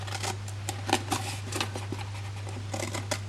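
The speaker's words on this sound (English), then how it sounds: "So the first thing we're going to do is cut off this whole flap here." Scissors snip through the flap of a cardboard gift box, a quick run of crisp cutting crunches over a steady low hum, close and fairly quiet.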